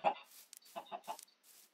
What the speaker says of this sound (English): I just gotta quickly gather up my three chickens.